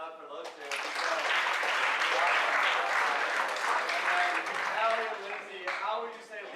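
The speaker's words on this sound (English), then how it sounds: "Let's clap it up for those two." Audience applause at a leadership summit for two alumni, a dense, sustained wash of many hands clapping that swells quickly, holds for several seconds, then tapers off.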